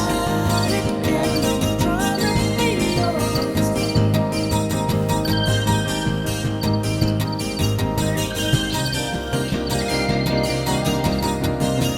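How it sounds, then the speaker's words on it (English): Crickets chirp steadily throughout, blended into a song with continuous instrumental music playing at full volume. "I like the crickets."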